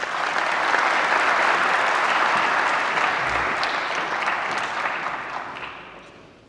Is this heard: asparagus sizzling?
no